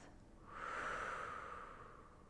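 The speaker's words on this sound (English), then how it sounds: "a breath in through the nose and a breath out of the mouth" A single slow breath in through the nose and out through the mouth, soft and close, with an airy swell that rises and fades over about two seconds in a quiet room.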